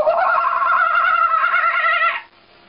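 A woman imitates a kookaburra call with her voice, producing a loud, close, warbling cackle that holds for about two seconds, then cuts off into quiet.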